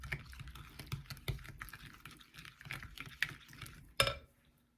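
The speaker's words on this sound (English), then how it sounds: "And then we mix this together." Flourless chocolate cake mixture being stirred in a bowl, a steady run of soft scraping and light clinking taps, close and fairly quiet, ending in one sharper knock before fading to silence.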